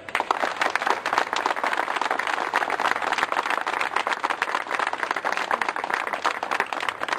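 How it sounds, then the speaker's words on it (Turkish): Steady, dense applause from a crowd at a Türk Eğitim Sen protest in Sinop over school principal appointments, sustained and fairly loud throughout with no voices on top. "alkışlayın"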